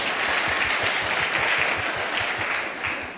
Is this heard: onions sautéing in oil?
no